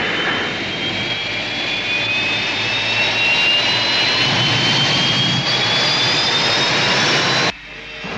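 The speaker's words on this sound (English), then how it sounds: "Rescue ship moving." A rescue spaceship moves in a 1970s sci-fi TV series, heard as a loud, steady jet-like roar with a rising whine that cuts off abruptly near the end.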